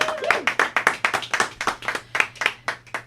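A small studio audience claps for a guest musician, with sparse hand claps in a quick rhythm, close and distinct rather than a dense roar.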